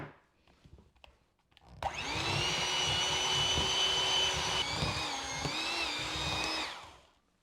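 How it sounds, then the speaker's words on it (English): An electric hand beater whirs steadily as it mixes coconut flour into a butter and sweetener mixture, starting abruptly after a quiet moment and running loud and continuous with slight pitch shifts before cutting off near the end. "we are gonna use the beater to mix it in to the butter and the sweetener mixture"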